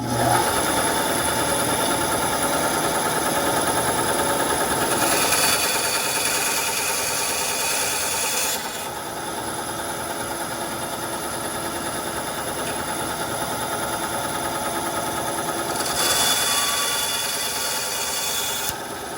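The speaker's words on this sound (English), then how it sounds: "I'm going to spend some time on my bandsaw." A bandsaw hums steadily while cutting down plastic canopy parts, its buzzing drone rising in intensity during cuts and easing slightly between them.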